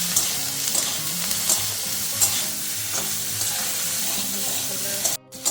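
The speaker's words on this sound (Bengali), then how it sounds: "এবার বেগুনটাও ভালো করে ভেজে তারপরে তুলে রাখবো।" Eggplant pieces fry in a hot pan with a loud, continuous sizzle and crackle, as a spatula scrapes and stirs in rhythmic strokes close by, briefly cutting out near the end.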